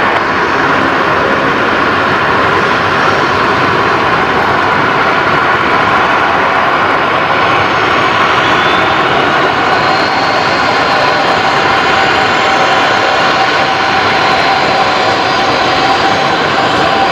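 A Qantas A330 jet at Brisbane Airport roars loud and steady at dusk, a continuous broadband engine rush whose whine shifts slightly as it passes, with no talk over it.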